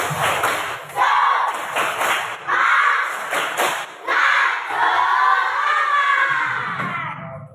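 A class of fifth-grade elementary schoolchildren performs a rhythmic spirit clap chant, loud grouped bursts of clapping alternating with shouted unison calls, repeated several times close by.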